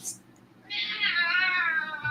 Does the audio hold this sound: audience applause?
no